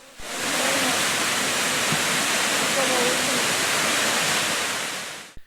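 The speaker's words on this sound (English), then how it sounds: "Miners Fall was another beautiful waterfall that dropped 40 feet over a sandstone ledge." Miners Falls, a waterfall dropping 40 feet over a sandstone ledge in Michigan's Upper Peninsula, roaring as a dense, continuous hiss of falling water heard close and loud from a viewing area, with faint voices underneath.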